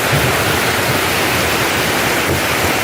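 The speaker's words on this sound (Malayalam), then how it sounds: "ശക്തമായ മഴയിൽ പോത്തൻകോട് മംഗലപുരം റോഡിൽ കരൂർ ഭാഗത്ത് റോഡിൽ നിന്നും വെള്ളം കുത്തിയൊലിച്ച് ക്ഷേത്രത്തിലും വീടുകളിലും കയറി" Floodwater gushes off a newly renovated PWD road at Karoor on the Pothencode–Mangalapuram road during heavy rain, a loud, close, unbroken broadband roar of rushing water.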